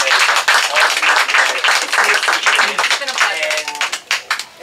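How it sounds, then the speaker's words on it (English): Applause for Ellen at a library rededication, steady dense clapping that holds loud for several seconds and then thins into scattered claps with some voices mixed in. "say a big round of applause here for Ellen"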